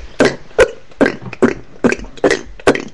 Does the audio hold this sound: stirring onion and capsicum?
no